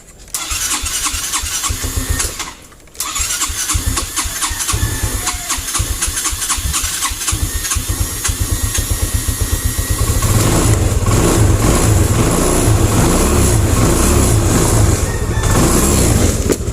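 A Yamaha Xeon scooter's engine cranks briefly, pauses, then fires and settles into a steady, close idle that grows a little louder and rougher partway through.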